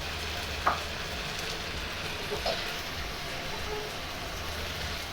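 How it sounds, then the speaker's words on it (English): Eggs frying in a pan while making Pad Thai, giving a steady sizzle with a couple of brief clinks from stirring and no talking. "Okay, and now we put in the eggs."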